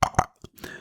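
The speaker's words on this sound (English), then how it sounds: "can you stop fucking burping because it interrupts things" A person burping, two quick close belches followed by a softer third and a trailing throaty gurgle, loud and alone.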